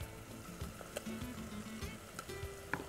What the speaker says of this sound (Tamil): போட்டு நல்லா வதக்குங்க